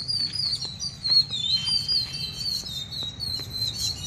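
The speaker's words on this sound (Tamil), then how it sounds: "நான் போனேன்னே குருவி சத்தம் கேட்குது பார்த்தீங்களா?" Sparrows chirp in quick, high bursts that repeat through the whole stretch, moderately close, with a steady low hum of background ambience and no one speaking.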